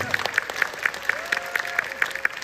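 Audience applause at a business network conference: a crowd clapping steadily and fairly loudly in a hall, with a faint tonal hum underneath and no talking.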